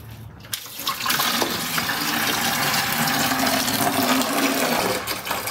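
Coolant draining from a Subaru WRX radiator through a fast-drain fitting, a steady continuous pouring, splashing rush that holds at an even level throughout, close by and without speech.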